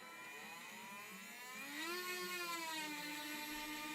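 Flywheels of an Adventure Force Axis Switch Pro dart blaster spinning at their lowest speed, a close, continuous whirring hum that climbs slightly in pitch and loudness partway through, with no talking.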